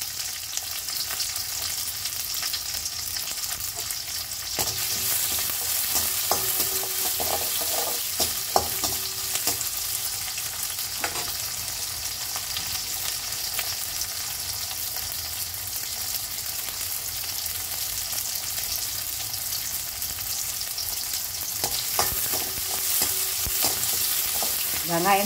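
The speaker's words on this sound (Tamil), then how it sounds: "வெங்காயம் நல்லா வதங்கணும்." Onions sauté steadily in a pan for an okra kara kulambu, with crushed small garlic nearby. A loud, continuous close sizzle runs throughout, broken by occasional scraping stir strokes.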